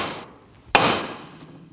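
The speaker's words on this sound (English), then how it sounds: "Using a hammer, tap on the side of the knuckle where the tie rod goes in to break the tension" A single sharp hammer strike on the steel steering knuckle of a 2008-2015 Scion xB to loosen the outer tie rod, a close metallic knock that rings briefly and fades.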